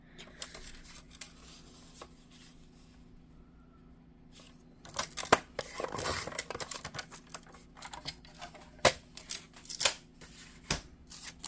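Scissors snipping paper for a junk journal notepad, a series of sharp crisp cuts and clicks, sparse at first then clustering into quicker bursts, close and clear with no talk.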